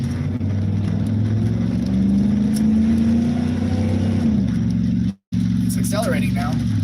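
Car accelerating on a Mexican highway, a loud, steady engine drone with a tone rising slowly, then a brief dropout.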